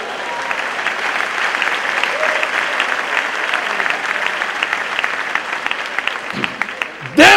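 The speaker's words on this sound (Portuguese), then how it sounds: "Ei, aplausos ao Senhor." A church congregation bursts into loud, sustained applause during a sermon. The thick clapping holds steady throughout, and a short burst of noise comes at the very end.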